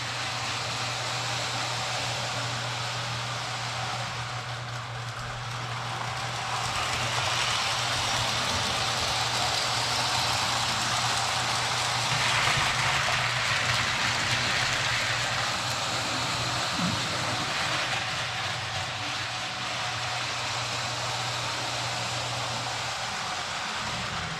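A train built in 1952 runs past with a steady low rumble and droning hum, swelling slightly midway, at moderate loudness with no talking.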